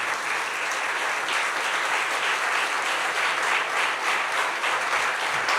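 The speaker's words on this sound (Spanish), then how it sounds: "¿Quiere dar un aplauso al Señor," A church congregation at a Sunday morning service claps together in sustained, lively applause that stays steady and fairly loud for several seconds, with no voices standing out.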